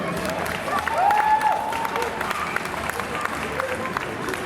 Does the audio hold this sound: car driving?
no